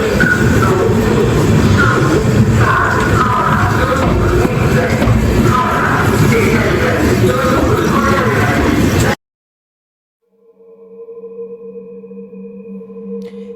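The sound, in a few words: train entering Dhanbad Junction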